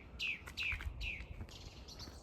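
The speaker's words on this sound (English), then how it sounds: "One bird cheeping away in the trees." A lone bird cheeps in the trees of a quiet, frozen winter countryside, its three or four short chirps spaced apart and fairly distant over a hushed outdoor background.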